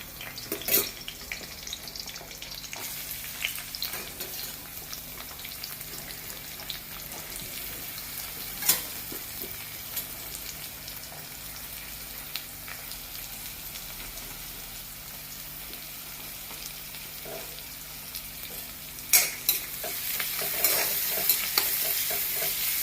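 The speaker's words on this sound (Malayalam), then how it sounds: "ഈ വെളിച്ചെണ്ണ ഒഴിച്ചിട്ട് ഒന്ന് ചൂടായി കഴിയുമ്പോൾ അതിനകത്തേക്ക് നമ്മൾ ഈ സാധനങ്ങളെല്ലാം കൂടിയിട്ടൊന്ന് വഴറ്റിയെടുക്കണം" Chopped tomatoes and vegetables sauté in coconut oil with a steady, moderate sizzle, broken by occasional clinks and scrapes of stirring and a louder clatter near the end.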